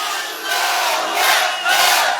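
A large waz gathering congregation in a Sylheti Bengali setting roars the takbir in unison, a loud sustained crowd shout swelling and surging in waves, with no single voice standing out.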